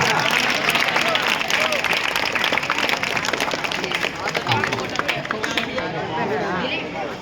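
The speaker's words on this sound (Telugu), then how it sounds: "క్లాప్స్ కొట్టండి గట్టిగా" Audience clapping at a school felicitation ceremony for high school teachers, a dense continuous patter of hands mixed with crowd chatter, while a voice talks over it throughout.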